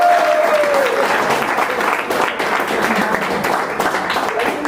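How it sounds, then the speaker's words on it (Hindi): A group of students claps loudly and continuously in a room, a thick, even roar of hands lasting throughout, with faint voices and a brief tonal sound mixed underneath. "जोरदार तालियां।"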